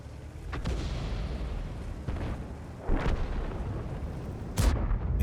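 Tank guns fire in a tank video game, a few deep booming shots spaced seconds apart over a low rumbling battle background, the last one loudest.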